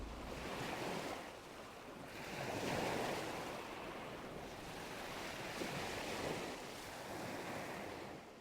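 Sea waves roll and wash steadily, with swells rising and easing over a broad hiss and a little wind noise, continuous and fairly close, with no voices.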